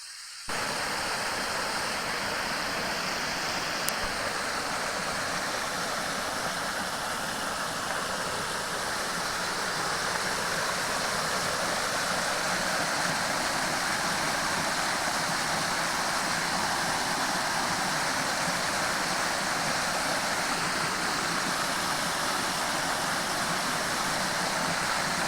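Icy Falls waterfall, with the water running low, pours as a steady broad rushing roar heard up close, unchanging and alone throughout.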